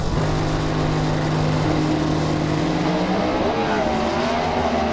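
Small-block Chevrolet drag race car with an automatic transmission, a 380 cubic inch engine, at a competition eliminator drag race: steady loud engine drone with harmonic tones that shift and climb late, continuous and close.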